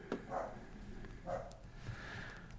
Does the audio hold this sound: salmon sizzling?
no